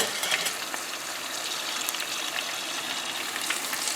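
Coconut-coated shrimp fry in hot oil at 375 degrees with a steady, bright bubbling sizzle, close and continuous with small crackles and pops.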